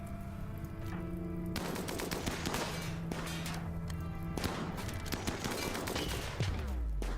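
Colonists in Rimworld fire ranged weapons in rapid, clustered bursts of sharp shots, loud and continuous over game music throughout.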